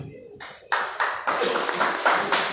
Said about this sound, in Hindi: कृपया तालियां बजाते रहिए